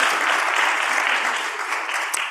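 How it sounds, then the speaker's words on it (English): Steady, dense applause from an audience at a Mediterranean tech women's festival, welcoming a speaker named Laura; loud and continuous, with no voices over it. "Applause for Laura."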